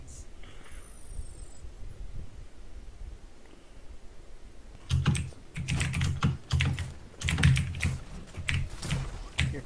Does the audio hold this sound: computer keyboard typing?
yes